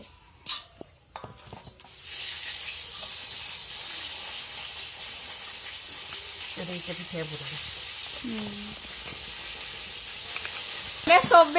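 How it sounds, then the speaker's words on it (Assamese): Fish frying in hot oil gives a steady, close sizzle that starts abruptly after a couple of knocks and continues for about ten seconds, with brief voices talking in the background. "এইফালে মাছ ফ্ৰাই কৰি আছে"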